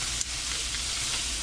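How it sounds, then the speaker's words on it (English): Sausage, potatoes and green beans sizzle and hiss steadily in a pot, with a short scrape of stirring near the start and no talking. "Let me stir this up real quick."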